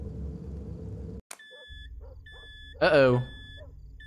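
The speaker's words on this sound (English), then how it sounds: "Alarm. Your dog is barking." Game-style alert beeps in the horror video game Fears to Fathom, Carson House, announcing a barking dog: two steady paired tones repeat across the scene with a faint dog sound, while a voice speaks briefly.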